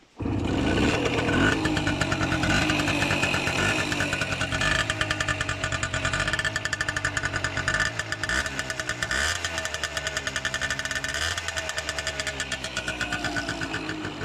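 A Simson two-stroke moped engine with a short exhaust pipe runs loud and close, with a steady rattling putter and slight revving, continuing throughout without voices.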